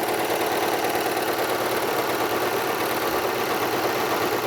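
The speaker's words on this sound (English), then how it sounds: "For the other side, let's stitch out about 20 inches of thread." A serger sewing machine stitches out a thread chain while sewing a cloth mask, a loud, steady, fast-running motor whir with a dense mechanical buzz, close and unbroken throughout.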